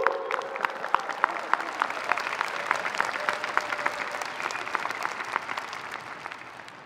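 A graduation commencement crowd claps and cheers steadily, dense applause with scattered sharp claps and whoops, sustained throughout and slowly tapering toward the end.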